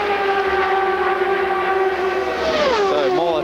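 IndyCar race cars running nose to tail in a close pack at the 1998 Marlboro 500 oval race, a continuous loud high-pitched engine whine with pitch sliding down near the end as the cars sweep past.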